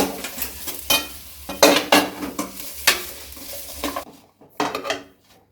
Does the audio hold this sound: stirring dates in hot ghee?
yes